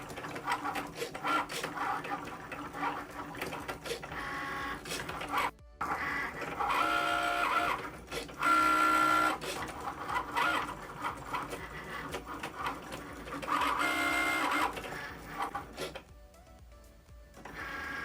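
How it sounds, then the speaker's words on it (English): A Cricut Maker cutting machine running in fast mode as it cuts vinyl, a steady mechanical whirring and buzzing with shifting motor pitches, fairly close, with brief pauses and no talk. "the Cricut Maker is starting to cut"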